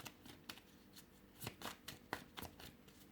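A deck of tarot cards is shuffled by hand in a quiet room, giving a run of soft, close riffling and flicking bursts in an irregular rhythm with no talking.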